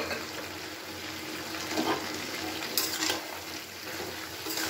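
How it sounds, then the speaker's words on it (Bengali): Mixed vegetable curry with ground roasted peanuts being stirred in an open pan, a soft steady scraping and bubbling sizzle with a few louder clinks of the utensil against the pan. "এবার আমি আর ঢাকা দেবো না, খোলা অবস্থায় নাড়াচাড়া করে নিচ্ছি।"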